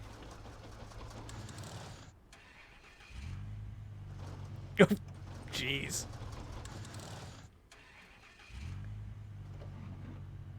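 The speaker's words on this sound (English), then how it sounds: "The engine is stalling." Truck engine in the Snowrunner video game cranking and stalling: a low mechanical rumble cuts out, restarts, then drops away again, with brief sharp clanks in between and a voice speaking briefly over it.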